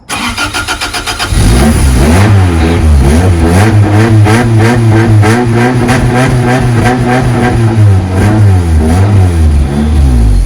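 A Toyota MR2 engine, pulled from a destroyed car, cranks briefly then catches and roars into loud repeated revving, rising and falling blips close by with no talk.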